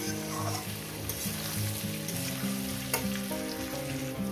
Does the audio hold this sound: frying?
yes